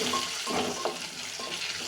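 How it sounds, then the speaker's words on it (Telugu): Gongura leaves fry in hot oil with a steady, close sizzle, punctuated by occasional stirring scrapes; no one speaks. "ఆ వాటర్ అంతా కూడా పోయే వరకు మనం దీన్ని ఆయిల్లో కుక్ చేసుకుంటే"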